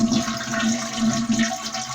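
A toilet being converted to a dual-flush system flushes and refills, giving a steady rush of water with a hissing, tonal refill under it.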